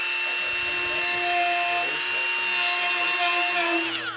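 A Milwaukee M12 Fuel right angle die grinder (2485) grinding, a loud, steady high-pitched whine with harmonic overtones that keeps running for about four seconds and wavers slightly as the tool bites, ending with a short pitch drop.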